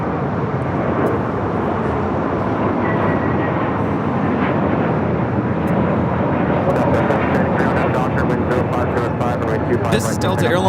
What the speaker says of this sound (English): This is Delta Airline 749 taking off to Tampa, Florida on the A321neo.